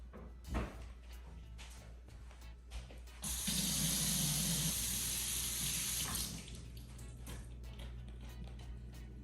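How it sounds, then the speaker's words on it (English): Fresh ginger is rinsed under a running kitchen tap, a steady close splash of water lasting a few seconds between softer handling noises, with no voices. "So wash the ginger."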